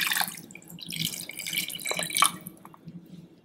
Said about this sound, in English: Next, we'll add 3/4 cups of water,